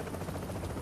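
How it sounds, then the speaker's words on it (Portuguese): A helicopter in the video game The Division hovers nearby, a dense steady rotor roar and buzz filling the background without a break. "é pra chamar a atenção do helicóptero"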